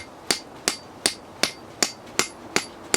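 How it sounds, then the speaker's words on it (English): Eight sharp, evenly spaced hammer strikes ring out up close as bolts with washers are driven into frozen ground at a winter tent camp, each blow a crisp metallic crack with a short decay. "I'll hammer them in as best as possible with my hammer."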